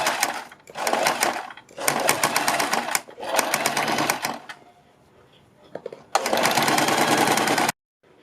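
A sewing machine stitches the neckline of a suit or kurti in several loud, close bursts of rapid clatter separated by brief pauses and one longer quiet stretch before a final steady run.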